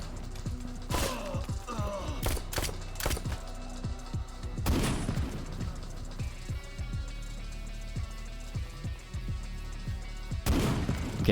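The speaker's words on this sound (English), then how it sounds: "The shooting does a lot of damage." Video game gunfire in a Skyrim parody game, with a series of sharp shots and heavy booming bursts spread irregularly across the scene over a steady game background.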